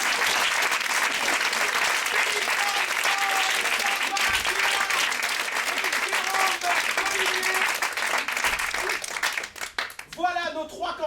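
Sustained audience applause during an improvisation theatre show, a dense, loud wash of clapping that fades toward the end as a voice starts to speak.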